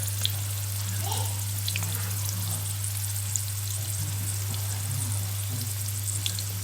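Breaded shrimp deep-frying in hot oil give a steady, close sizzle with faint bubbling crackles and occasional pops, continuous throughout and alone without voices.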